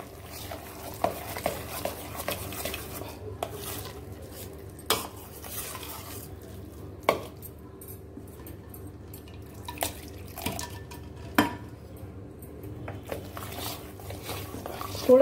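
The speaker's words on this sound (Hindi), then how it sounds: "थोड़ा थोड़ा पानी ऐड करते हुए हमें बस इसको क्लॉकवाइज चलाते रहना है।" A spoon stirs milk cream clockwise in a pan while small amounts of water are added for homemade desi ghee, giving soft scraping and occasional clinks of metal against the pot, with faint drips throughout and no voices.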